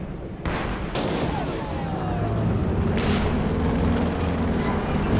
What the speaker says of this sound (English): we've got the AAT guns coming forward to try to damage it